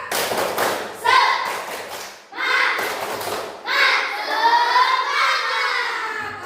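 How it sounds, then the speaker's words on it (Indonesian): A class of children claps and chants a spirit cheer together in loud rhythmic bursts, voices and hand claps rising and falling in a patterned sequence. "tepuk semangat lagi, boleh? Boleh ya, tepuk semangat."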